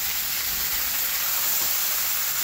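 Noodles fry in a pan with tomato sauce and Maggi masala, giving a steady, even sizzle with a broad hiss that holds unbroken throughout.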